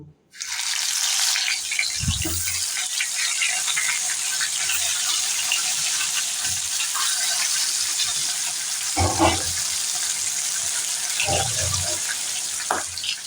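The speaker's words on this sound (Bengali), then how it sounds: "আমি গ্যাস জ্বালিয়ে কড়াইতে তেল দিয়ে দিয়েছি সর্ষের তেল এটা সর্ষের তেলে হবে সব সময়ের জন্য আমি সামান্য একটু হলুদ দিয়ে নিয়েছি হলুদ দিয়ে এবার আমি মাছগুলোকে ছেড়ে দেবো" Tilapia pieces fry in hot mustard oil with a little turmeric in a wok on a gas stove, giving a loud, steady sizzling hiss close by, with occasional soft thumps and clinks from handling.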